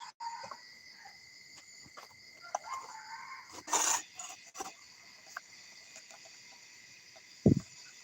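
Chickens cluck intermittently at dawn while a rooster crows, one loud crow standing out mid-clip, with crickets or insects buzzing steadily in the background and a sharp knock near the end.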